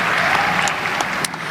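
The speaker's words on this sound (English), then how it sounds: "You deserve a round of applause for that." Graduates and guests at a spring 2021 college commencement ceremony applaud in a dense, steady burst of clapping.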